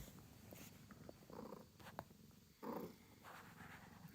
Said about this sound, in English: You got a big purr, though?